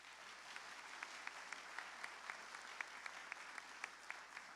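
Audience at an all-employee college meeting applauding, a soft, steady patter of many hands with distinct sharper claps standing out, fairly distant and even throughout.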